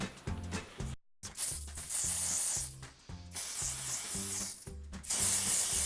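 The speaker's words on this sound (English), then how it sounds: "And hers is spray foundation." Spray foundation makeup hisses from a can in steady, close bursts with short pauses between sprays, over a faint background of music.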